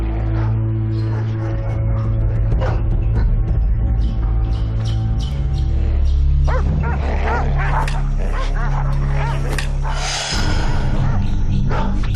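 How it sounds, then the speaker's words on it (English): Hunting dogs barking and yelping over a dramatic music score, with whimpering mixed in; the barks come in a busy, overlapping cluster as they track a cheetah's scent. "Hunting dogs. They smell her scent."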